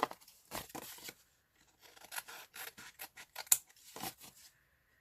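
Scissors trimming a thin stencilled paper tag during a scrapbusting craft session: a series of crisp, close snips in irregular bursts, with short quiet gaps between cuts.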